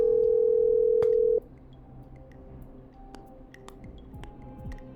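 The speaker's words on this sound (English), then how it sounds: "Okay, I'm dialing." Phone dialing in the video game Killer Frequency: a steady dial tone holds for over a second, then cuts off into a quiet line with faint scattered clicks and soft ticks.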